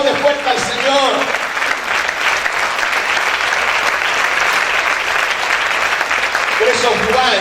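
A church congregation claps loudly to the Lord, a sustained, dense round of applause lasting several seconds with a preacher's voice briefly heard at the start and end.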